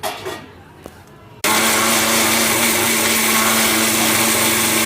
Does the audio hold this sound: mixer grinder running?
yes